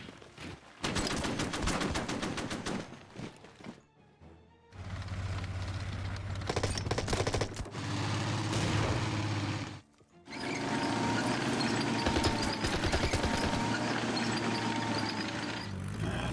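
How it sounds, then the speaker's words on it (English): Anti-aircraft gun firing in a World War II strategy game on the drive toward Stalingrad, loud rapid bursts of shots that continue almost without a break, with one short pause midway. "Anti-aircraft gun will open up"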